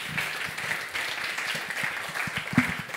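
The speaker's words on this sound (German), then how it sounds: "Und ein Applaus, bitte" Audience applause at a panel discussion, moderate clapping from a modest crowd, fairly soft and steady with distinct individual claps.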